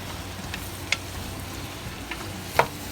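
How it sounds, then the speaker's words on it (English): Zucchini soup being stirred in a pot as it cooks, soft low bubbling under a few sharp spoon clinks against the pot, quiet and close. "So I'm gonna mix that in there really good and keep mixing and let this cook all together."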